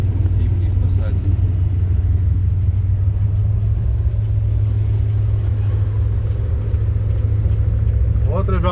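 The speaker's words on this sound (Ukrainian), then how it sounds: "Вот, ребят, холостые обороты." A TU6A diesel locomotive idles in winter, a loud, steady low engine rumble and hum that holds evenly from close by, with a voice heard briefly over it.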